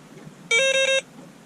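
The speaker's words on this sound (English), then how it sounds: "This is called a Delkim Carp alarm." A Delkim carp bite alarm gives one steady electronic tone lasting about half a second. It sounds close and loud against a quiet background.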